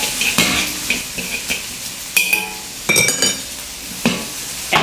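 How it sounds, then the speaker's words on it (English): Udon noodles with mushrooms and mashed vegetables stir-fried in a pan, with sizzling and frying under repeated scraping and clinking of utensils against the pan in irregular bursts. "Loosen the noodles and mix well with the mashed vegetables"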